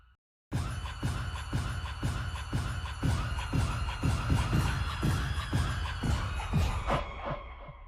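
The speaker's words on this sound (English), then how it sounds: "You hear all the screaming?" Several people scream and shriek together in a loud, dense burst, with repeated sharp rhythmic pulses running under the continuous crowd-like wail.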